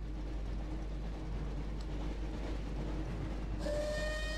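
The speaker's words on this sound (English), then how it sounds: "Looks like we found the train, Ron." A train approaches in the Harry Potter 2 PlayStation game with a steady rumbling roll, and near the end a loud train whistle blasts in over the noise, with no one talking.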